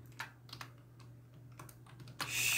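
Computer keyboard typing while writing Python Django code: a few scattered light key clicks at close range, then a louder burst of rapid keystrokes near the end, over a steady low hum.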